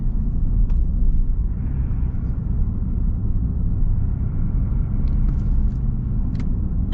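A 2025 Chevy Silverado Trail Boss with the Duramax diesel pulls away under light throttle, a steady deep low-end rumble heard from inside the cab that holds even and full for the whole stretch, with no voices over it.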